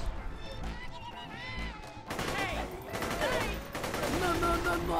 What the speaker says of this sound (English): there go the explosions